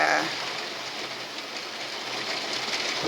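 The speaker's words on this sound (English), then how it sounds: "think about the rain going down the window" Rain streams down a window during a summer storm, a dense, steady hiss of water that holds at an even level throughout.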